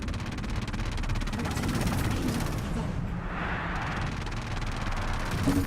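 Sustained enemy ship gunfire in the space combat game EVE: Valkyrie, a dense, continuous rattle of rapid shots with heavy low rumble that holds steady throughout.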